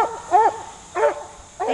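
Puppies around six months old bark in a kennel, with three short, close yelps spaced evenly over a steady background hiss.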